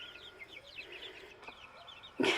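Young chicks in a backyard pen peep and cluck in quick, bright bursts close by, ending in a sudden louder rustle or thump.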